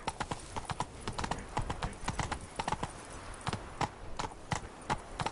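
Roach the horse gallops in The Witcher 3, with rapid rhythmic hoofbeats clopping on hard ground, close and loud throughout.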